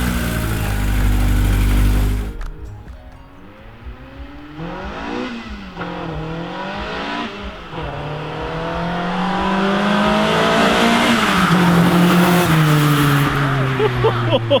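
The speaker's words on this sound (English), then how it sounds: "you did a burnout down there" Modified Honda VTEC-swapped Mini car revving hard and accelerating, engine note rising and falling in repeated surges with a rough, loud, close roar and broad tire-noise hiss, after a brief heavy idle at the start.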